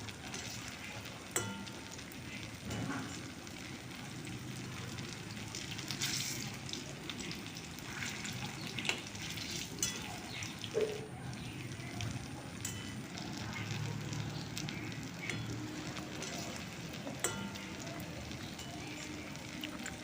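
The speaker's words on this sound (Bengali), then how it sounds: "এরপর আমি চারটে চারটে করে ভেজে নেব" Potato pakoras fry in hot oil, four at a time, with a quiet, steady bubbling sizzle and occasional soft crackles, faint and unbroken throughout.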